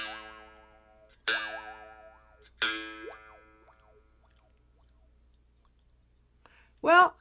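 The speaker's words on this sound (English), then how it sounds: "If I wiggle my tongue around in my mouth, it sounds a little bit like a frog's jumping around." A mouth bow gives twanging plucked notes, three struck in turn, each ringing with a warbling, wobbling pitch as the tongue wiggles, frog-like, then a short squeak-like burst at the end.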